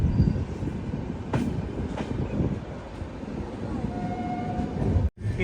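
Passenger train arriving at Gandhidham Junction, heard from inside a sleeper coach: a steady, loud low rumble of wheels on rails with faint squeals and clanks, continuous throughout.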